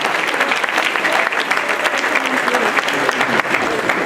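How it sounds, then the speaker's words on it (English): An audience at a memory workshop claps together in dense, sustained applause, a loud continuous patter of many hands filling the hall without pause. "Give yourselves a round of applause."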